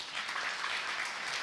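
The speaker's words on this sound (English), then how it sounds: "Can you clap for her?" Brief audience applause at an architecture and design expo session: a short burst of steady crowd clapping at a faint, distant level.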